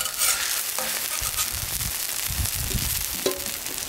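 Seafood and meat sizzle and crackle steadily as they fry in a pan for Mid-Autumn Festival dishes, with occasional stirring clinks and scrapes, close and continuous throughout.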